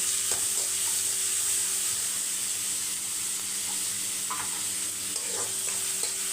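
Onions sautéing in a pan with a steady, continuous sizzle, occasional stirring scrapes and faint clinks, close and alone with no talk.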